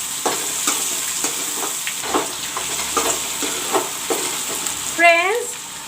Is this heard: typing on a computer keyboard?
no